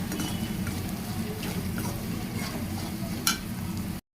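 A spiced fish fry mixture is stirred in a pan under a steady low sizzle, with faint scraping and the occasional light clink of a utensil. It sounds close and even, then stops abruptly at the end.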